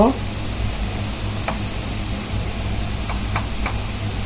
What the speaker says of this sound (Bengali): রসুনটা একটু গাঢ় করে ভাজতে হয়